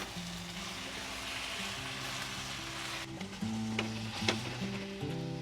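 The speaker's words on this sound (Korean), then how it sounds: "물을 한 50cc 정도만 이거 긁어내기 위해서 불을 켜고 이걸 긁어내도록 하겠습니다" Water hitting a hot pan of chicken curry residue to loosen it, a steady loud sizzle and frying hiss with scraping and stirring, under faint background music and no talk.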